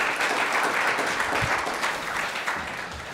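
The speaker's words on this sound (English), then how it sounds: "let's give them a round of applause for getting baptized" A church congregation applauds newly baptized members, a fairly soft but dense, continuous patter of many hands clapping that tapers slightly toward the end.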